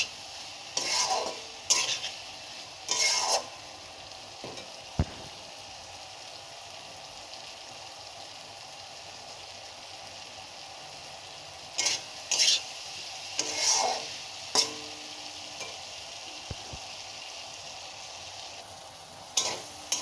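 Potatoes frying with spices in a pan, a quiet steady sizzle with scattered bursts of stirring and scraping from a spoon, close by and without speech.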